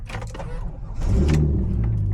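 A V6 Camaro engine cranks briefly, then catches at about the one-second mark and settles into a loud, steady, low idle rumble close by, after some faint background noise.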